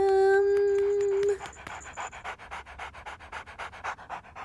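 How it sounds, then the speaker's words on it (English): A cartoon puppy pants in quick, rhythmic huffs after a brief high whimpering whine, close and clear with no talking over it. "Oh, Scruff. Messy pup."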